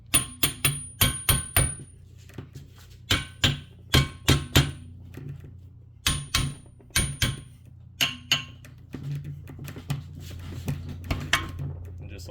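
A sledgehammer taps a socket onto a worn locking lug nut on a car wheel in quick bursts of sharp metallic blows, with short pauses between groups and lighter knocks toward the end.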